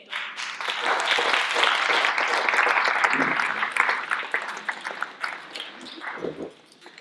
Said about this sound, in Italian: Un caloroso applauso ai nostri amici di Trento.